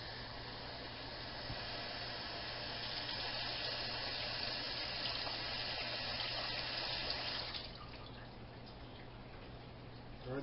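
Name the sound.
water poured into bowl for washing rice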